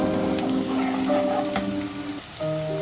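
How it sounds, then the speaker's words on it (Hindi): Onions frying in a pan until light golden for a village-style bhuna chicken curry, a dense continuous sizzle with faint scraping, close and loud with no talking. "इसको हल्का सुनहरा होने तक फ्राई करेंगे।"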